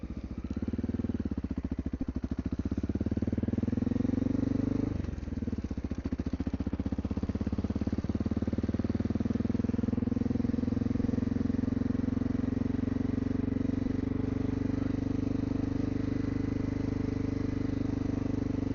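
Honda XR650L motorcycle riding near the lower side of Bagnell Dam in the Ozarks, its single-cylinder engine droning steadily and close with a brief dip in revs partway through, wind rumble underneath and no talk.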